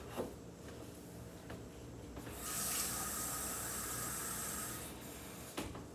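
Water pouring from a kitchen tap into a pot, a steady hissing gush that starts about two seconds in and runs for nearly three seconds before stopping, close and clear with no talk.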